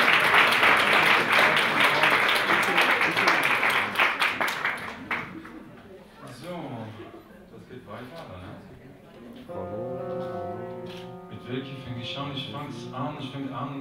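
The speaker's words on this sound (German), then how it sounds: "Also nochmal einen herzlichen Applaus für Christopher Gagnerone." An audience bursts into loud, dense applause for a pianist, which fades after about five seconds into someone talking, followed by piano notes.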